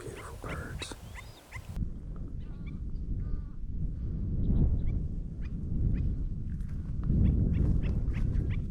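Wild birds calling at San Bernard National Wildlife Refuge in Texas, repeated cawing and squawking calls over steady outdoor background noise, moderately near.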